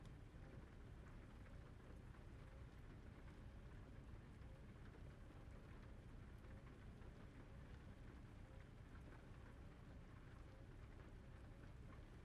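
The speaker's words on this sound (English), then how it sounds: "It's a little annoying that it's raining" Steady, dense rain in a trucking simulator video game hisses continuously without pause, a broad even wash of falling water with no voices.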